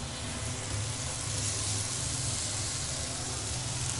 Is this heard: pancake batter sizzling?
yes